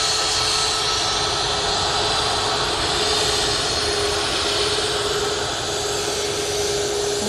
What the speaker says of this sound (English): Ryanair heading off to Alicante this morning. 737 Max.